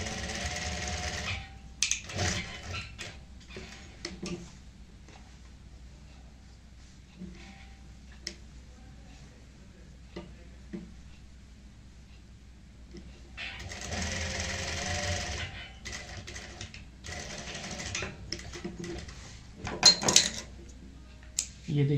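A sewing machine stitches a pillow cover in short bursts of rapid mechanical whirring, with a longer run later on, separated by quiet pauses and spoken instruction.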